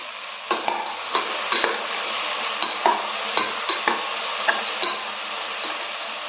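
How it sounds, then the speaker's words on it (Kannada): Mixed grains for sambar are sautéed with salt in a pan under a steady, close hiss, while a spatula taps and scrapes the pan in fairly regular strokes about every half second. "ಈಗ ಇದನ್ನು ಚೆನ್ನಾಗಿ ಬಾಡಿಸ್ಕೊಳ್ಳೋಣ"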